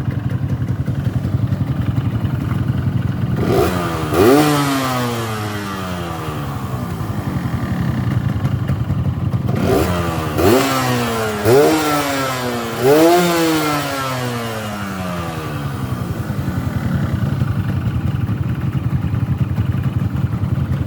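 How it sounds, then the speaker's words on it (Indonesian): A 2008 Yamaha RX King motorcycle engine idles and is revved hard several times, with sharp rising bursts spaced a few seconds apart, loud and close. "si RS King ya, kita geber ya."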